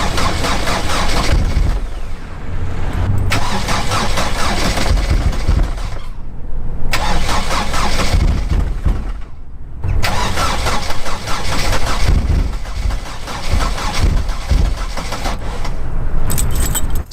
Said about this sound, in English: I'll try starting the engine again.